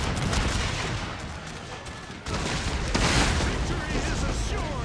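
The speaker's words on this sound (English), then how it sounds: "here comes the artillery shells" Artillery shells firing and exploding in a Total War battle between Prussia and Great Britain, a dense continuous barrage of booms and crackling gunfire with a sharper surge midway, loud and filling the mix.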